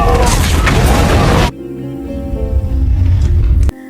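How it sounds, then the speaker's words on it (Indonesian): A loud, dense booming explosion fills the first second and a half, then cuts to a quieter, lingering rumble with tonal ringing, from the film Arcadian (2024). "Paul membuat ledakan yang sayangnya malah mengenai dirinya juga"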